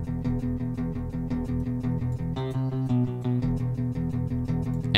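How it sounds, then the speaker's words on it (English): A synthetic, fake-guitar sound strummed constantly as a high-energy bass part in a boss-fight track, dense, driving and steady throughout, loud with no voices. "this like high energy bass section made from like a fake guitar strummed constantly"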